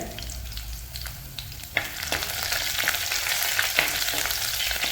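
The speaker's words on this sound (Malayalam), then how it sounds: "നമ്മളെ രണ്ട് ബുള്ളറ്റ് പറങ്കി മുറിച്ചത് അത് ഈ എണ്ണയിലേക്ക് ഇട്ട് കൊടുക്കാം" Fenugreek, cut bullet chillies and curry leaves frying in oil: a crackling sizzle that swells and grows denser, with a few sharp spoon taps against the pan, close and without talk.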